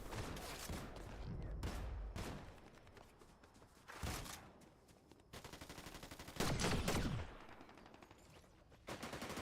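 Blaster and rifle fire in a Star Wars video game, heard as dense, rapid bursts of shooting and explosive thumps that run almost without pause and stay loud throughout.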